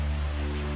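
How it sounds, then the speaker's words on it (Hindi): Torrential rain pouring over a village, loud and steady, makes a dense, unbroken hiss that does not change for the whole brief moment, with no voices. "वही गांव में मूसलाधार बारिश लगातार हो रही थी"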